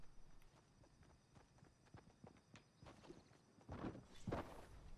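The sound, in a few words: footsteps in Fortnite video game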